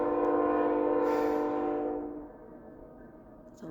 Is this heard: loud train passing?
yes